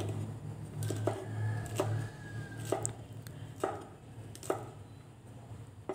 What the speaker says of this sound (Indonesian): Sayuran lainnya ada kubis. Ini saya pakai sekitar 5 lembar, kemudian saya potong-potong lebih kecil.